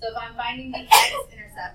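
A single sharp sneeze in a classroom during a maths lesson, loud and close, breaking in over a teacher's ongoing speech.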